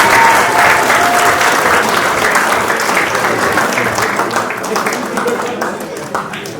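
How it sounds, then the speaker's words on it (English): A large audience breaks into dense, steady applause to welcome a youth football coach onstage at an awards night. The clapping stays loud throughout and eases slightly toward the end. "Please can you give him a warm round of applause"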